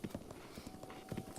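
Horse hooves galloping in The Legend of Zelda: Breath of the Wild, a quick rhythmic clip-clop of repeated hoofbeats at close range with no talk over it.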